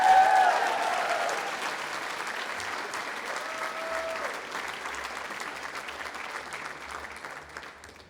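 An audience at a Dalhousie University Faculty of Health spring convocation claps steadily. The applause is loudest at the start and slowly fades over several seconds, with a faint voice and a brief tone woven into the crowd noise.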